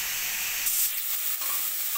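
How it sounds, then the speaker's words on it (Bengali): Broccoli frying in oil in a pan while it is stirred, a steady close sizzle with a brief stronger hiss partway through and no voices. "ব্রোকলিটা এখানে ভাজা হয়ে গেছে"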